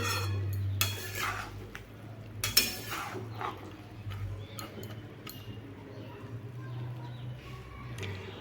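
A lid goes onto a pan of bottle gourd frying with salt: two sharp metallic clanks of the lid and pan, followed by a quieter low hum and faint kitchen clatter.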